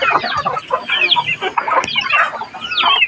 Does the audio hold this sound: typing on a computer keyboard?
no